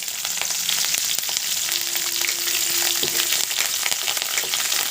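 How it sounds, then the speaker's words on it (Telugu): Steady, crackling sizzle of lentils frying in hot oil with garlic and curry leaves, close and continuous, with faint clinks of a utensil stirring the pan. "ఇవి కొద్దిగా పప్పులు కలర్ మారే వరకు బాగా ఫ్రై చేయండి"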